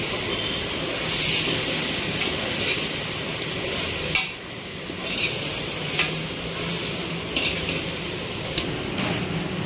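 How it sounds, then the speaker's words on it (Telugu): Chopped tomatoes with turmeric fry in hot oil in a pan for chicken gravy, a steady loud sizzle with occasional stirring scrapes and small bursts of crackle running throughout. "టమాటా వేగిపోయి ఆయిల్ బయటికి వచ్చే వరకు వేయించుకోవాలి"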